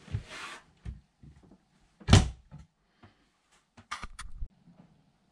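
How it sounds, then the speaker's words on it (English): Cabin doors aboard a Beneteau Oceanis 54 yacht, a soft thud near the start, a louder solid close midway, then a couple of lighter latching clicks, all close and with no talking. "Just close when you shut the door."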